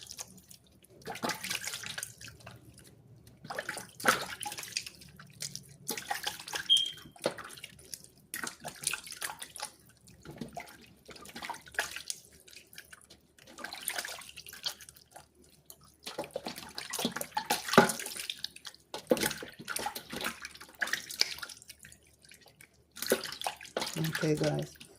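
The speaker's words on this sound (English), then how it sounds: "So you just wash the chicken with the vinegar," Raw chicken pieces washed in a kitchen sink with vinegar under running tap water, intermittent bursts of splashing and pouring as the faucet flows and the meat is handled, with quieter gaps between.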